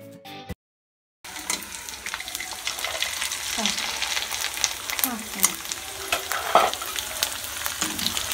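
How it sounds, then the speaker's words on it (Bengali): Syringe-piped flower pitha rice cakes frying in oil over medium heat: a brief muffled sound and a short gap, then a dense bubbling sizzle with frequent utensil scrapes and small clinks close by. "আপনাদেরকে দেখাচ্ছি কিভাবে পিঠাগুলো ভাজতে হয়"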